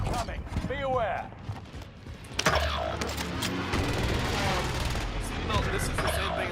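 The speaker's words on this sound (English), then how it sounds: "Allied precision airstrike incoming" A Call of Duty match fills with an air-strike warning, bursts of gunfire, sharp impacts and mechanical clatter. A player talks over the game noise throughout.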